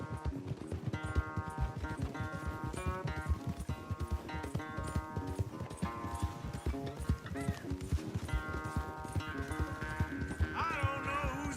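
Horses galloping in a race in the video game Red Dead Redemption 2, rapid rhythmic hoofbeats pounding steadily throughout with occasional whinnies, under a musical score.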